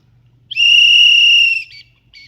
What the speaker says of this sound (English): They're not afraid of the whistle.